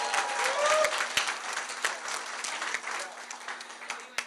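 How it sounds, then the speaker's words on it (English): Crowd applause at an election-night celebration for Josh Green's successful primary campaign, a dense wash of clapping with a few scattered cheers and voices mixed in, steady and then slowly thinning over several seconds. "Let's give him a round of applause because he was dear."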